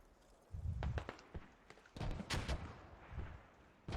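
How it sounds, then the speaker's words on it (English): Mortar fire in a competitive multiplayer video game match: a few muffled low booms and thuds spread over a few seconds, with lighter clicks and footstep-like taps between them, heard alone. "there's just nothing you can do to counter the mortars as infantry"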